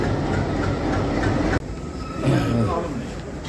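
A train arriving at a railway station rumbles and clatters along the rails, a steady heavy roar with a brief break and a faint squeal of wheels.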